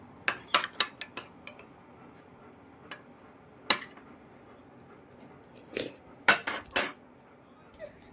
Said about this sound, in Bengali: টুকরো টুকরো করে দিচ্ছি।